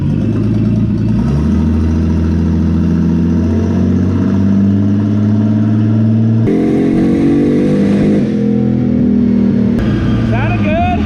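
A Datsun 280ZX engine revs hard through a test pull after retiming, its loud mid-pitched drone climbing and shifting steadily and close, with a brief drop in pitch partway through before pulling again.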